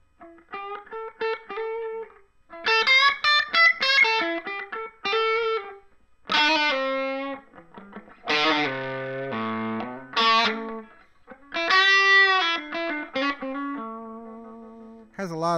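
A 2008 Gibson '59 Reissue Les Paul electric guitar played with a hard, aggressive attack, bursts of chords and notes in separate phrases with short gaps, loud and distorted, no voices.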